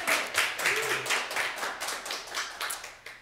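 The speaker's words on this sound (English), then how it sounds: "Big round of applause for this guy on the piano," Scattered clapping for a pianist at a live holiday concert in a performance hall, a modest number of hands producing uneven bursts that swell and dip, with a brief low tone underneath.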